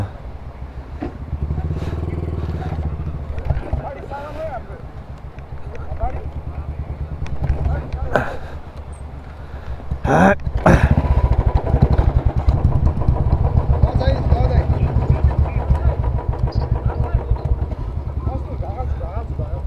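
A motorcycle engine idles and revs up nearby, a steady throbbing rumble that grows louder midway, with voices talking over it.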